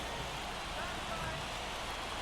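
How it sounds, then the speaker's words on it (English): Steady rain in the baseball video game MLB The Show 24, at a Minnesota Twins versus San Diego Padres game, makes a dense, even hiss that holds at a constant level throughout, with no distinct drops standing out. "The rain is here, and it doesn't look like it's going away anytime soon."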